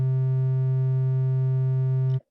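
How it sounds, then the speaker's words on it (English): A steady sine wave tone from a software oscillator holds one pure pitch loud and unbroken for about two seconds, then stops abruptly. "So at first it was a sine wave."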